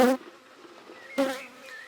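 Honey bees buzzing at a backyard hive inspection, two loud close passes of individual bees flying by the microphone with fainter buzzing between.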